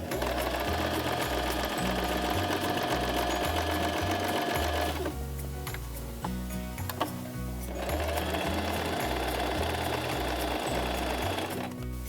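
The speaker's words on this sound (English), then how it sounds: "now that we're done with the tacking pins, we'll just go right ahead into sewing." Sewing machine stitching a pillow, a fast steady mechanical rattle running loud and close, pausing briefly midway before resuming at the same pace; no talking.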